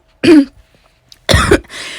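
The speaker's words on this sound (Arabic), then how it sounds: "والله لسه عندي كحة" Two harsh, breathy coughs, close to the microphone, separated by about a second of quiet; the second burst is louder and followed by faint noise.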